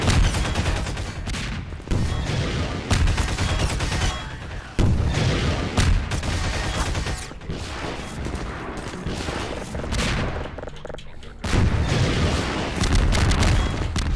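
In the Half-Life 2: Episode One video game, grenade launcher explosions and gunfire thunder continuously, a dense barrage of booms and shots with sudden jumps in loudness and no clear gaps.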